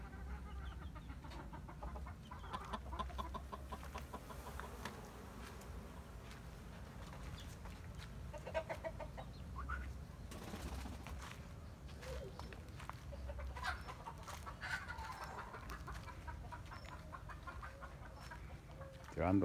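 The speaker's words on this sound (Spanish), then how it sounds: "Tenemos gallo ahí." Chickens clucking around a rooster in an outdoor farmyard, a busy continuous mix of bird calls with background ambience and no talking.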